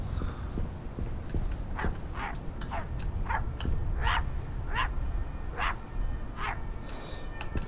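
A dog in the horror game My Friendly Neighborhood barks repeatedly at a steady pace, the sharp yaps sounding fairly near over a constant low ambient rumble.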